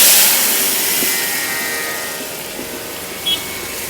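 Broad, loud hiss and sizzle of masala dropped into hot oil in a large pot for a big batch of vegetable curry, strongest at the start and slowly fading, with faint clinks.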